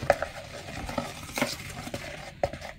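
Candle mold mixture is stirred in a container for a rose candle holder, giving soft scraping strokes and a few sharp clinks at irregular intervals, fairly faint and close.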